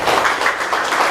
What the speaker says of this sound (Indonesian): Mari kita beri aplaus kepada beliau berdua